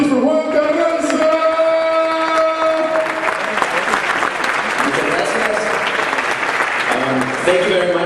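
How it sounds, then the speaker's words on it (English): Festival opening audience applauds steadily for the full stretch, a dense wash of clapping with crowd noise, while sustained tonal music or a held chord sounds underneath and fades out partway through. "Another round of applause, please, for Juan Carranza!"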